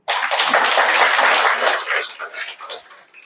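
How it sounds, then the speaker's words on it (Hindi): An audience at a spiritual talk in Biratnagar, Nepal claps together in a brief burst of dense applause lasting about three seconds, then it thins out and stops. "ताली तो बजाओ।"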